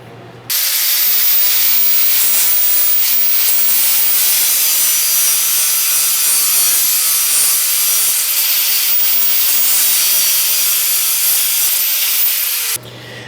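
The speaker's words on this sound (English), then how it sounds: "I'm going to do this real quick just with the angle grinder." An angle grinder cuts a Damascus steel bottle opener, giving a loud, steady, high-pitched grinding roar that runs almost the whole time, starting and stopping abruptly.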